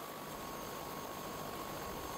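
A private rescue helicopter at a Pyrenees ski resort carrying an injured skier, heard as a steady, loud, broadband rotor and engine roar that holds constant throughout, with no speech.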